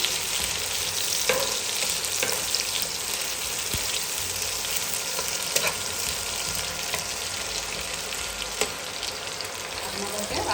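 Garlic frying in oil in a pan until browned, cooking for palak paneer, a steady dense sizzle crackling continuously and close with no talk over it.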